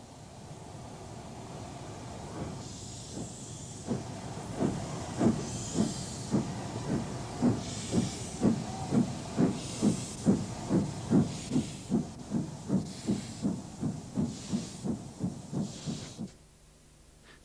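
A Mickey Mouse tank steam locomotive departs Waterloo on empty stock duty in 1967, with a steady hiss swelling into rhythmic, accelerating exhaust chuffs, loud and close, before fading abruptly.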